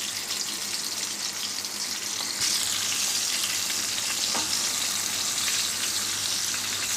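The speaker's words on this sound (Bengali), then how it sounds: "আলুটা ভাজা হচ্ছে," Potatoes fry in a pan with a constant sizzling crackle, which swells louder partway through and then holds steady for several seconds.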